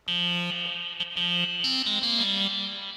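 A buzzy synthesizer plays a short sequence of sustained tones with a delay effect, repeating echoes trailing each note, alone and fairly quiet.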